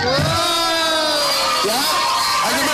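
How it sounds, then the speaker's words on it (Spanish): Excited crowd at a children's clown show, with loud, sustained shouting and cheering from many young voices, close and continuous, with rising and falling pitch. "A ver, aplausos para él."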